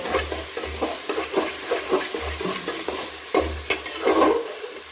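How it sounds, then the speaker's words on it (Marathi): Peas and mint leaves are stirred in a pot over ginger and garlic, with repeated scraping and clinking strokes over a low sizzle and a rhythmic low hum beneath. "तर आता टाकून घेऊया थोडंसं पुदिन्याचं पान आणि हे मटार सर्व मिक्स करून घेऊया"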